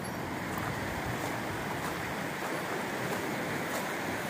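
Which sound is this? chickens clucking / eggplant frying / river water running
river water running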